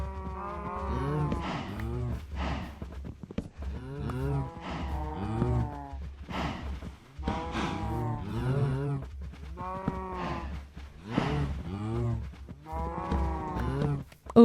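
Minecraft cows moo again and again in a steady series of drawn-out, wavering calls, with several animals overlapping close by while a low ambient game music bed continues underneath.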